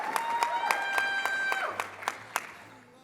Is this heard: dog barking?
no